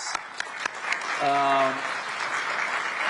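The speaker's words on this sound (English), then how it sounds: "I think it deserves an applause." A few sharp claps start things off before broader applause swells at a World Economic Forum session. A voice briefly rises over it partway through, and the clapping then continues steadily.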